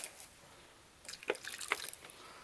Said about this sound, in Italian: Ora andiamo a mettere un pochettino di acqua